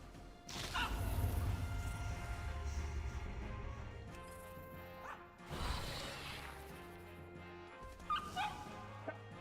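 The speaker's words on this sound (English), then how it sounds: "Super bark should help." Dog barks from the Super Bark ability in World of Warcraft: The War Within, a loud burst followed by whimpering yips amid game effects and whooshes.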